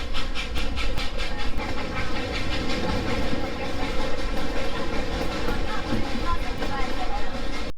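Puffing Billy steam train rolls along the rails between Lakeside and Belgrave stations, a steady loud rumble with rhythmic clickety-clack of wheels and chuffing, continuous from an onboard position.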